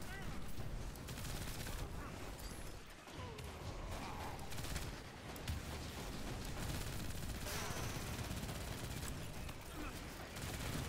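Continuous gunfire from a Destiny 2 firefight, steady dense shooting throughout with a brief lull near the three-second mark, heard at a moderate distance with background voices mixed in.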